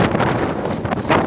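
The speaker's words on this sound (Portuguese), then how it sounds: "Muito vento, a maré tá correndo muito." Strong wind buffets a boat out at sea over water 30 fathoms deep, with a fast-running tide, a steady broadband roar of gusting wind and microphone buffeting filling the whole moment.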